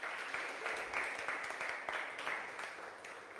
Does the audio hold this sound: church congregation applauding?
yes